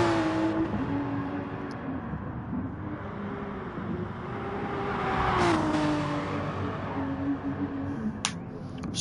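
A Porsche race car in a VLN race at the Nürburgring. Its engine drones steadily with a shifting pitch, rising to a louder swell midway before easing, with a few sharp clicks near the end.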